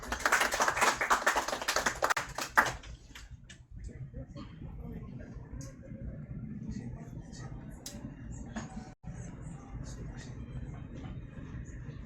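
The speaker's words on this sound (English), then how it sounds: "let us all give a round of applause for Dr." Brief applause from a forum audience at a Philippine manufacturing-sector event rises for the first few seconds, then breaks off into a quieter room with scattered taps, shuffling and handling noises.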